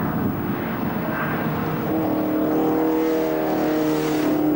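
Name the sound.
TVR Grand Tourer race car on its first lap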